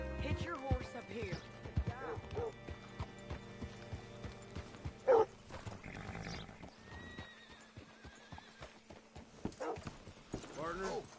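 Horse being hitched in a video game, with hoof clip-clops on hard ground, a sharp whinny midway and snorting, while a voice talks over it.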